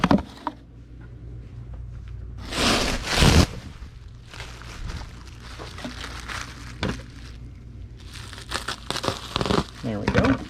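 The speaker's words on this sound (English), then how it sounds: "we need to get a sheet of bubble wrap and cut it in half" A sheet of bubble wrap is handled and cut while packing a box, giving close crinkling and rustling bursts, loudest in a couple of strong crumples, with a person talking over parts of it.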